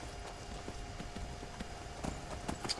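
Horse hooves clip-clop in a quick, steady gallop across open ground in the Skyrim video game, a rhythmic thudding under a low wash of ambient noise.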